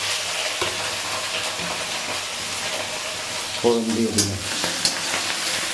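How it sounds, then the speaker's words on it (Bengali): Dried chili, bay leaf, chopped raw onion and garlic sizzle steadily in hot oil for Bengali tempering, a broad close hiss with a few clinks of stirring near the end. "দিয়ে আমি এই যে কাঁচা পেঁয়াজ কুচা, লঙ্কা ফেলে রেখে দিয়ে আর রসুন কুচি দিয়ে ফোড়ন দিয়ে দিলাম"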